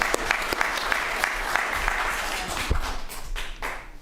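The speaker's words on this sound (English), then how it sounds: "And I would just love to give a round of applause to Ms." Audience applause fills a city council meeting chamber: steady, dense clapping from a roomful of people, fairly close and continuous for the whole stretch.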